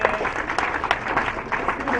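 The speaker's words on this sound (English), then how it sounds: "Kindly welcome her with a loud applause" Audience clapping at a Kenya Society for the Blind event, a brief burst of applause with voices mixed in over it.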